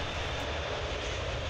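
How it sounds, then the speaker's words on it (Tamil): A Qatar Airways Airbus A380 airliner taking off at Heathrow, with a broad, steady roar of jet engines at full thrust that stays loud and continuous throughout, with no voices. "அதனைத் தொடர்ந்து வருகின்றது ஹட்டார் ஏர்வைஸ் விமானத்தினுடைய A38 விமானம் தன்னுடைய பறப்பினை ஆரம்பிக்கின்றது"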